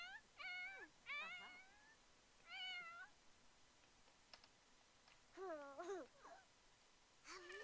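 A Sims 4 toddler mimics a cat with a run of high, wavering meows in short bursts, each call rising and falling in pitch, with quiet gaps and faint clicks between them.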